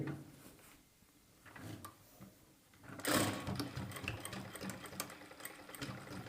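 Sewing machine stitching piping onto a plain blouse, with the cloth folded thick, a steady mechanical whir that grows louder midway and runs continuously, with occasional clicks and no talking.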